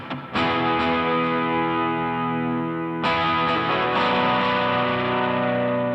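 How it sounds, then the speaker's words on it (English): Electric guitar played for worship music through compression, distortion, delay and reverb: two big sustained chords strummed about three seconds apart, loud and dense, each ringing out with a long wash of echo. "You take the compression and distortion from the sharp and punchy sound and add the delay and reverb of the clean and spacious sound"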